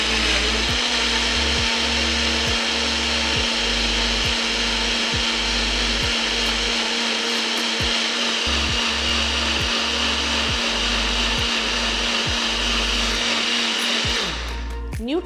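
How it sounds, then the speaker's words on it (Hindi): A Nutri high-speed kitchen blender blending soup whirs loudly and steadily for a long stretch, its pitch holding constant with faint rhythmic thumps, then cuts off at the end. "सारी चीज़ों को अब हम ब्लेंड करेंगे एंड हमारा सूप तैयार हो जाएगा"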